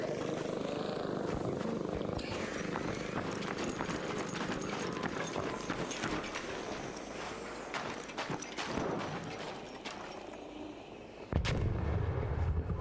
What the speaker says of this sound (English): They're shooting another team.